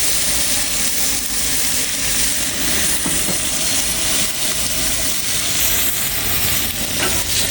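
Tri-tip steaks are flipped in a hot pan and sizzle loudly and steadily, with a bright crackling hiss and faint scraping of the turner, and no voices.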